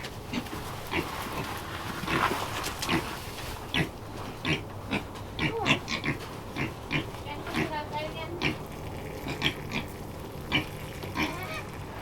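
Pigs grunt and oink repeatedly on a farm in winter, close up and in irregular bursts, while people talk over them.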